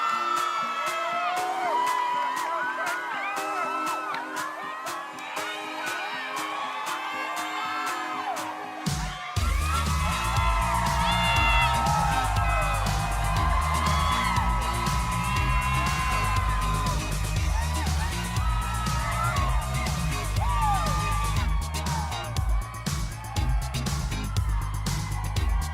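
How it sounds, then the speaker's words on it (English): A pageant audience at the Miss USA preliminaries cheers, whoops and applauds. A dense, loud crowd roar swells sharply partway through and holds steady with shouts, under music. "Another round of applause for our final group and all of our contestants."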